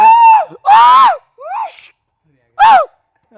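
Loud, close human shouts aimed at roosting bats, four separate wavering yells with short gaps between them.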